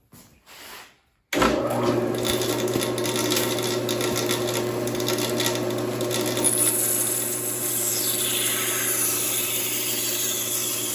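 A saw with its fence set at a quarter inch cuts stock for HO-scale concrete barriers, starting abruptly and then running as one steady, loud whine that continues to the end.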